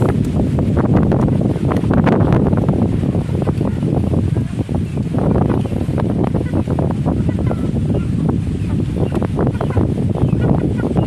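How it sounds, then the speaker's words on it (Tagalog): Loud, steady wind buffets the microphone throughout, a continuous roaring rush with gusts rising and falling. "Hangin."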